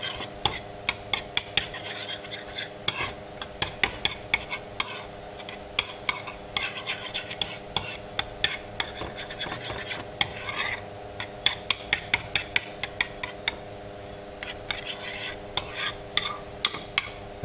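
Shack burger ingredients mixed by hand in a bowl, giving a steady wet rasping and rubbing texture with frequent small squelchy ticks and clicks over a constant low background hum, no talking.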